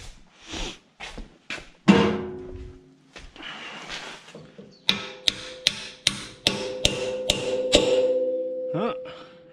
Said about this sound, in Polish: Młotek by się jakiś przydał.